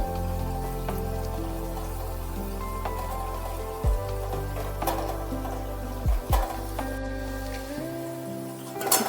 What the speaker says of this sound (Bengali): এপিটো পিট বেশ ভালোভাবেই ভেজে নিতে হবে